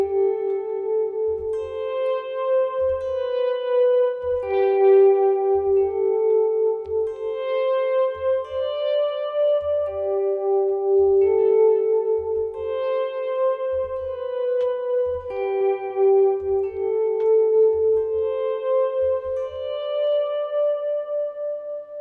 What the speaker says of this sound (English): You want your feedback to give you a lot of trails. And then you're going to use your volume pedal.